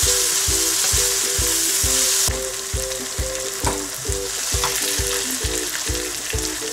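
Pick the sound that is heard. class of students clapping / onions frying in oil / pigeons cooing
onions frying in oil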